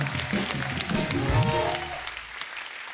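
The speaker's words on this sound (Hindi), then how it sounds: "एक बार सर के लिए जोर बड़ा तालियां हो जाए" Studio audience on The Kapil Sharma Show, a comedy show, bursts into dense, loud applause, with a voice briefly rising over it mid-way before the clapping thins out and fades toward the end.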